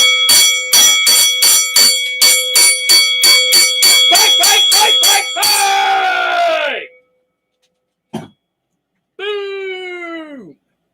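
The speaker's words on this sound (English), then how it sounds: "we're going to bring out the fight bell" A boxing-style fight bell struck in quick, even succession about a dozen times, then left ringing out and fading; a single short knock follows, and then a loud descending wail-like tone.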